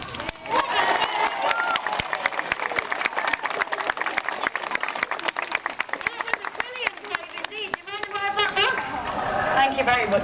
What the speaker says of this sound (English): If he manages to catch this, give him a massive cheer, everyone.